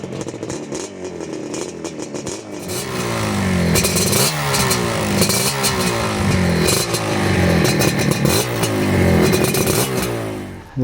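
A Yamaha RD 350 LC two-stroke motorcycle engine idles with a ragged, crackling beat, then revs up repeatedly in rising and falling bursts, loud and close, with no talking over it.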